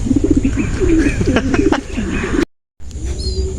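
Soft, low racing pigeon cooing repeats through the first half, with brief chirps and faint background noise, then a short dropout before ambient sound resumes.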